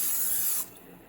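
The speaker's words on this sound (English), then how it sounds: "Then you get your pan ready by spraying it with some oil." Cooking oil is sprayed from a can onto a pan for grilled cheese: one short, close, steady hiss lasting about half a second, then fading to quiet.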